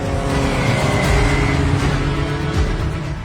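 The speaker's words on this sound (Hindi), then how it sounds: "मैम स्लो डाउन मैम, बहुत आप तेज से गाड़ी चला रहे हो मैम।" A car driven fast with its engine revving, a steady loud roar of motor and road noise that holds throughout without letting up.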